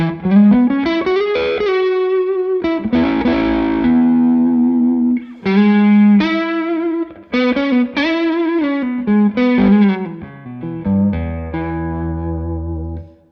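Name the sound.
electric guitar through overdrive pedal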